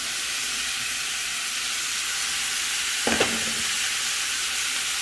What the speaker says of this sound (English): And I'm going to add my shrimp in